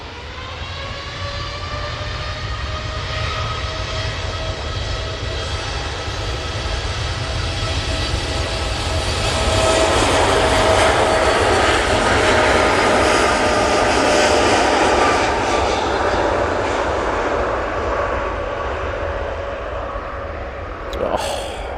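A TUI airliner bound for Paphos takes off from Manchester Airport, a loud sustained jet engine roar with whining tones that builds to a peak midway and holds strong before easing slightly near the end.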